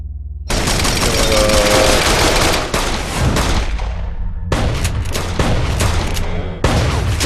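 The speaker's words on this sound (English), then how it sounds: "they shoot like Elmer Fudd, though" Heavy gunfire from a Breaking Bad episode, a desert shootout with long loud bursts of automatic fire broken by short pauses, close and dominant with no talk over it.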